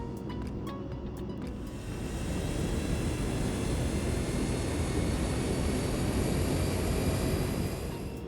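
A YS-11 turboprop airliner in Microsoft Flight Simulator spools up its engine, a broad roaring drone that swells after a few seconds and holds steady and loud, with faint clicks at the start.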